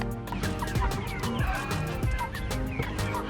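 Chickens clucking at a poultry butchering and processing station, a dense, continuous flock chorus of overlapping clucks and squawks, loud and close throughout.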